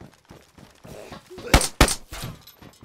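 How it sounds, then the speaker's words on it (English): Two sharp, loud gunshot cracks close together in DayZ, standing out over a quieter background of game noise and faint thuds. "This is military. They are shooting."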